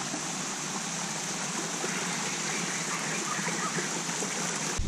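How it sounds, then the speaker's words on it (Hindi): Steady rushing water from a mountain waterfall stream near a Nepali village by Pokhara, a continuous broadband roar that stays even and close throughout with no voices. "बर्ड की साउंड सुन रहे हो पानी के बहते हुए?"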